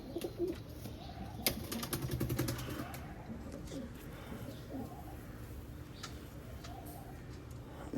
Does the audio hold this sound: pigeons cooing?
yes